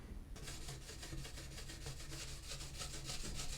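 A small CD changer part is rubbed with Pink Stuff mild abrasive paste, making rhythmic back-and-forth scrubbing strokes, quick and even, close and fairly quiet.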